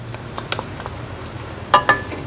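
Onions fry in oil in a kadai over high heat, a soft sizzle broken by a few stirring scrapes, with two sharper clinks near the end.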